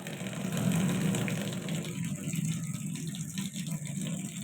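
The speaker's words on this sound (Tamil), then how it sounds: "இப்போ நான் தண்ணியை திறந்து விட்றேன் பாருங்க." Water gushes steadily from an opened pipe, a continuous close splashing flow with a hissing, rushing texture that holds at a fairly even level throughout.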